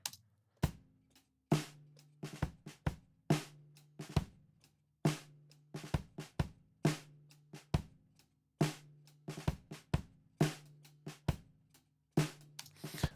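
A dry, unprocessed drum kit recorded through a ribbon microphone plays a steady groove, with sharp hits over a low, resonant tone, close and clear with no voices.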